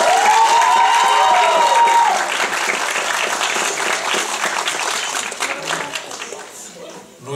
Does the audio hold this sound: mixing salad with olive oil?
no